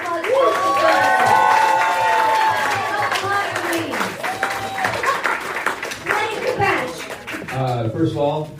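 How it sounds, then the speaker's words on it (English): An audience at a live storytelling game show at the Lyric Hyperion in Los Angeles applauds and cheers, a steady wash of clapping running throughout while voices talk and laugh over it. "Let's give a round of applause."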